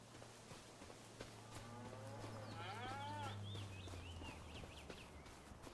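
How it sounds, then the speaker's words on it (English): Cattle mooing in the video game Farming Simulator 25 on the Castile and Leon map, several drawn-out moos overlapping near the middle against a steady low hum of game ambience, with no talk. "Yes, these are the cows."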